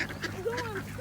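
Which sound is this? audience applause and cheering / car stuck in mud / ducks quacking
ducks quacking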